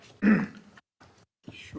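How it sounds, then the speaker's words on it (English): A single throat clearing sounds close to the microphone during a city council meeting roll-call vote, followed by a few faint short vocal noises. "Clear my throat."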